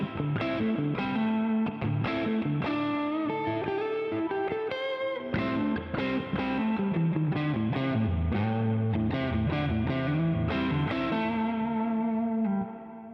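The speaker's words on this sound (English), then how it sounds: "we're going to start on the neck pickup" A Harley Benton TE-52 electric guitar on its neck pickup plays overdriven riffs through a Klon Centaur clone into a Katana amp's clean channel, sustained distorted chords and melodic lines ringing loud and alone.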